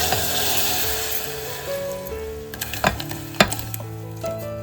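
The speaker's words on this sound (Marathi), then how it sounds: "आता आपण हा सर्व मिक्सर घालून घेतो याच्यामध्ये" Ground masala paste hits a hot tempering in a pan, giving a loud close sizzle with a few sharp clinks and scraping stirs; a steady hum runs underneath.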